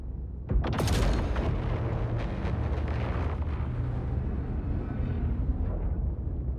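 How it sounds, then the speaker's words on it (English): The Idris M railgun in the video game Star Citizen fires with one sudden, loud, booming blast, then a long, roaring rumble that slowly fades over several seconds. "Let's fire this railgun again."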